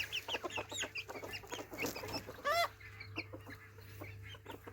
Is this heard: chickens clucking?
yes